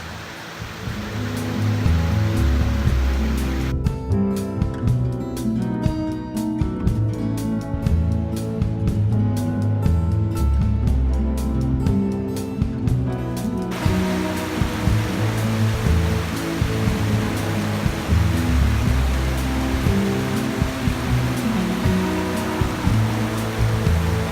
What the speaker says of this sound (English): Like to walk by the creeks and rushing waters, this place definitely had it covered.